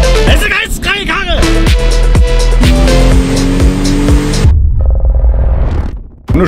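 A Toyota Supra MK4 sports car engine revs hard and loud, its pitch sweeping up and down through repeated rises before cutting off into a quieter tail.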